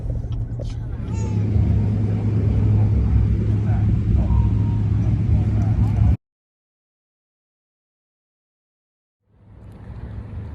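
Car driving along a road, heard from inside as a steady low rumble with road noise for about six seconds, then a silent gap before the rumble returns.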